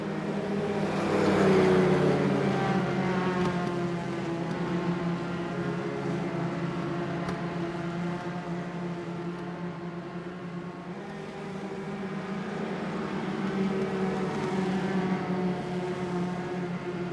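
Open-wheel Indy Pro 2000 race car engines in the iRacing simulator at Phoenix Raceway drone with a steady, harmonic whine that swells and dips slightly as the cars circulate, with no talking.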